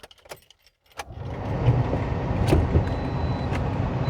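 Car keys jangle and clink close by in a Toyota Corolla, a few quick metallic rattles at first, then a steady low rumble of handling and movement continues.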